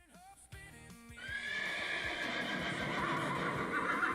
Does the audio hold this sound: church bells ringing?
no